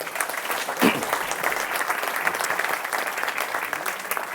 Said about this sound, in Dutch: En graag een applaus voor Pascal Connet.